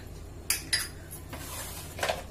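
Chicken pakora ingredients and spices are stirred together in a bowl, producing a few close clinks and scrapes of a utensil against the bowl over a low steady background hum.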